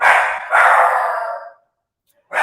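A dog barks in two long, loud, close bursts, a short pause between them, then a third bark begins after a second of silence.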